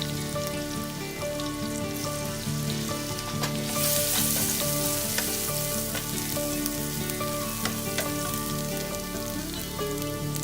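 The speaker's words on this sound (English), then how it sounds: "into the same oil, I'm going to go ahead and add the chopped garlic" Chopped garlic frying in hot oil in a pan, a loud, steady, crackling sizzle that carries on throughout with dense popping, close up and with no voices.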